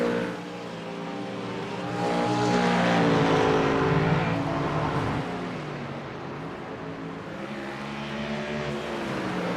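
Race cars in an iRacing GT3 league round at the Nürburgring, a Mustang and a Porsche GT3 running close together, with loud sustained engine drones rising and falling through gear shifts and revs, layered and continuous with no talk.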